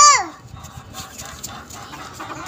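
Chickens and chicks at a backyard coop, with a brief sharp call at the start, then soft scattered clucks and scratching, faint and close, with a little background talk.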